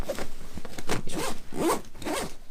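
A stiff main-compartment zipper on an Attitude Supply ATD2 roll-top backpack is dragged closed, rasping in several close, scratchy pulls that catch where the track turns the top corner.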